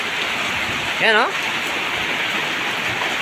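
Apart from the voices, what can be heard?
heavy rain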